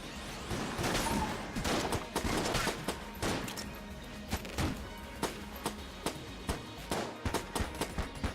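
Rapid gunfire in the video game Enter The Gungeon, dense bursts of shots early that thin into sharper, spaced single pops and short volleys toward the end.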